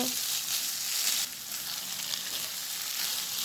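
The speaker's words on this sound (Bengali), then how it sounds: "নুডলসগুলোকে ডিমের সঙ্গে তেলের সঙ্গে মিশিয়ে নেব এবং হালকা করে ভেজে নেব" Noodles fry lightly with egg and oil in a pan, giving a steady, fairly faint, close sizzle that runs continuously without speech.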